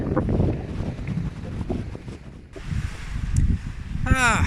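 Wind buffets and roars across the microphone in gusts on the coast at Brook Chine, Isle of Wight, with a brief high whistling sweep near the end.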